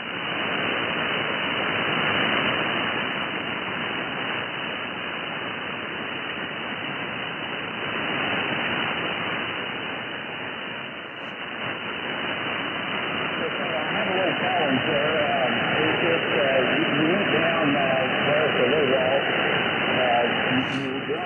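HF amateur radio receiver hissing with steady static and noise as band conditions fade, a constant mid-level rushing wash throughout with no clear voices.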